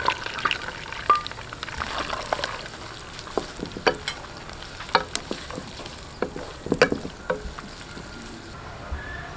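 Onions frying in a kadhai for biryani give a soft continuous sizzle with frequent clinks and scrapes of a stirring spoon, close but fairly quiet.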